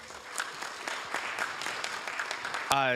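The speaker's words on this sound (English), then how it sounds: "let's give a big round of applause to Pam Gard." Audience applause in a city council meeting chamber, a moderate spread of clapping with a few sharper claps standing out, steady for a few seconds before a voice cuts in at the end.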